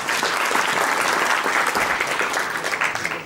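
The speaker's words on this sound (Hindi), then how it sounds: "तालियों से इसका इस्तकबाल करें।" Loud, dense applause from a hospital audience welcoming a newly unveiled robot, steady and sustained throughout without a break.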